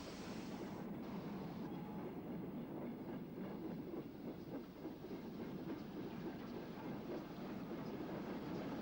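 A steam-hauled ballast train rumbling steadily past with rhythmic clattering of wheels on rails, a continuous mid-distance roar throughout.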